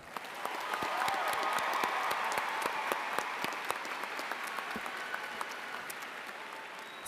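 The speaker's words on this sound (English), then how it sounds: "Please join me in giving the class of 2024 a round of applause." A large crowd at a Pasco High School graduation ceremony applauds the class of 2024 in a broad, sustained roar of clapping with scattered sharper claps, easing off gradually toward the end.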